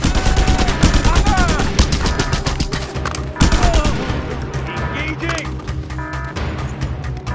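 Mounted gun firing in Just Cause 2, loud rapid bursts of automatic gunfire amid explosions and in-game voices.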